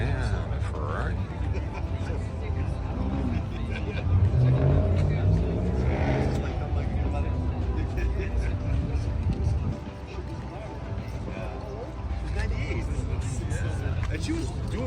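At an outdoor car show, a car pulls out and its engine rises briefly in the middle distance while people talk nearby over the crowd murmur.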